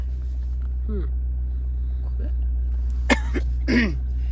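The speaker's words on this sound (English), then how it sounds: "Sorry, I had to clear my throat." A few short, rough throat-clearing bursts over the steady low engine rumble of a 2009 Mini Cooper S, close to the mic, with quiet gaps between them.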